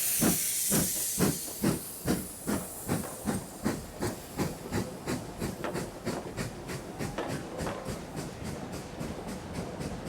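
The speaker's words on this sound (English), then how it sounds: "Departing with one of the specials is LMS 2P Class 440, number 546" An LMS 2P Class steam locomotive, number 546, pulls away with a steady run of loud, even chuffs that gradually quicken, over a constant wash of hissing steam.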